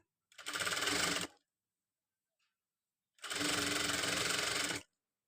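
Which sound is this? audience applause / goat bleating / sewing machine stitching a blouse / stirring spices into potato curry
sewing machine stitching a blouse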